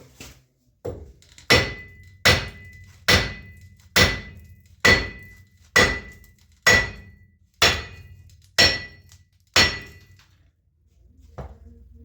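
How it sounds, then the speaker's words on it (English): A heavy hammer strikes a wheel bearing on a Dana 60 axle spindle about ten times at a steady rhythm, each sharp ringing blow fading before the next, close and loud. "take a big old hammer and start walloping"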